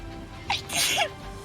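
A single sharp sneeze, close and fairly loud, bursting out over steady background game audio.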